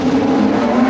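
Red Bull RB20 Formula 1 car on track, a brief steady high-pitched engine drone, loud and sustained.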